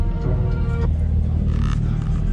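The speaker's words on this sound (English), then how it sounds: "We just cars pulling up everywhere." Cars pull up and rev at a street car meet in San Jose, a loud, steady low engine rumble with a brief higher rev tone early on, close by and without speech.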